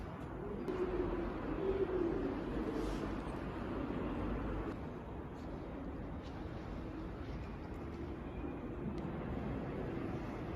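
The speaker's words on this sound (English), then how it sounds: "and then it's just pigeons." Pigeons in a closed, largely empty shopping mall coo softly against a constant wash of indoor ambient noise and distant reverberant hum, with no one talking.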